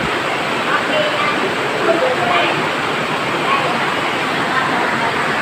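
Heavy rain at night pours in a steady, loud, unbroken hiss, close and constant throughout with no pauses, and no voices rising above it.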